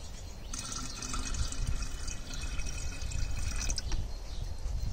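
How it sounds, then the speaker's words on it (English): Pond water poured from a cup into a glass jar for a sealed ecosphere makes a steady, close watery splashing and trickling that runs the whole time, with no talk over it. "So now I'm going to put in the pond water, also with a cup so it doesn't disturb it too much."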